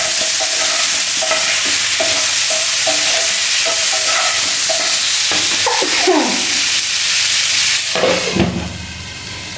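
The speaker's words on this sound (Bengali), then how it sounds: "আমি ততক্ষণ আলুগুলো নাড়িয়ে নিই" Potatoes are stirred in a hot frying pan for chicken and egg curry, with steady sizzling and repeated scraping strokes of a spatula close up, the frying dying away near the end.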